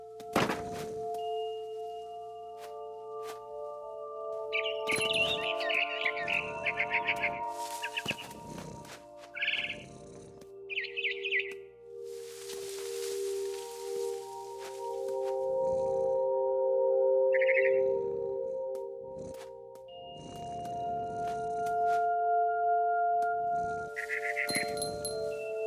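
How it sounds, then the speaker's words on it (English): A barn swallow in the video game What Remains of Edith Finch, chirping in short bursts over sustained musical tones, with thumps and a brief flapping rush in between and no talking. "It was a barn swallow going back to her nest."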